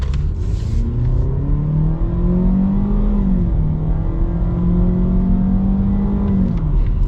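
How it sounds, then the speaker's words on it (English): A Ford EcoSport 4WD with a naturally aspirated 4-cylinder engine and 6-speed automatic accelerates from inside the cabin, the engine drone climbing in pitch, dipping at a gear shift, then rising again in a steady, close hum. "pretty good from acceleration perspective with that 6-speed automatic and the little naturally aspirated 4-cylinder"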